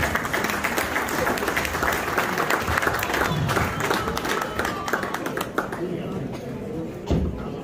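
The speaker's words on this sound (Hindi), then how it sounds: "मैं चाहूंगा आपकी भरपूर तालियों में जनाब मुश्ताक मोहम्मद साहब हैं।" An audience at a cricket legends interview event gives sustained, dense applause, many hands clapping loudly and continuously throughout, with crowd voices mixed in.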